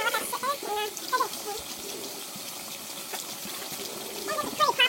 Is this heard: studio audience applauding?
no